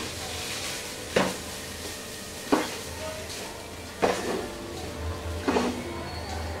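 Bangladeshi vegetable fried rice with soy sauce is stirred and tossed in a pan, with four evenly spaced scraping strokes over a low steady hiss, close and moderately loud.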